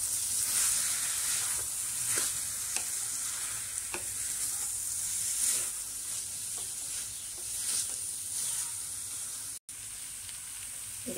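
Boiled jackfruit stirred and frying in a pan, a steady close sizzle with soft scraping strokes of a spoon recurring every second or so, continuous and alone without voices.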